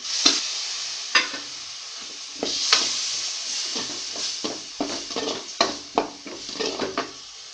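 Ground tomato masala sautéing in a pan for mushroom gravy. A close hiss runs throughout, broken by repeated spoon strokes and scrapes against the pan at an irregular pace, with no voices.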